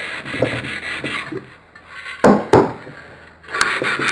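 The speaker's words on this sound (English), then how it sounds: "Sand all the fronts of it." Wooden parts of an unassembled camera obscura kit being hand-sanded: close, rhythmic rubbing strokes with a couple of sharp knocks midway, then more rasping.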